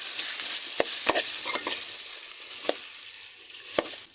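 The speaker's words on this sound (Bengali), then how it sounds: "শুকনো মরিচ জলপাইগুলো দিয়ে নেড়ে ফেলে" Olives with dried red chilies, boiled garlic and panch phoron spices being stirred in hot oil in a pot for olive pickle: a steady sizzle with several sharp scrapes and knocks of a spoon against the pan, no talking.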